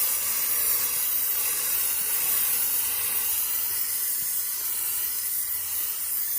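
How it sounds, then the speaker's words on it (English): ArmorAll Furious wet tire shine sprayed onto a car tire, a steady continuous hiss of aerosol spray held close and fairly loud, with no voices. "This smaller tire will be the one that I do spray a second time"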